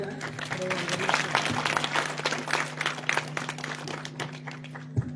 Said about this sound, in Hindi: तो एक बार महोदय जी के लिए भी तालियां हो जाएं।